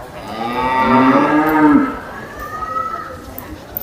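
Cattle moo at a breed judging contest for Charolais cattle, with several long, loud, close lowing calls followed by a fainter moo, against a murmur of crowd noise.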